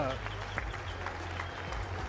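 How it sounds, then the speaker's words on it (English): Spectators at a combat jiu-jitsu event applaud and cheer in a steady wash of crowd noise, while a commentator talks over it. "the action is most definitely being felt by the crowd here"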